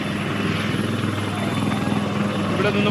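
A helicopter sits near its landing spot at a disaster site, preparing to take off again, its rotor and engine producing a loud, continuous pulsing drone with voices faintly present underneath.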